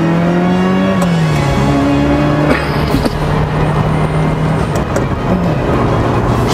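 A 1980s Ferrari 328 GTS engine drones steadily and loud from inside the car while driving, its pitch rising and stepping with revs and gear changes, with no talk.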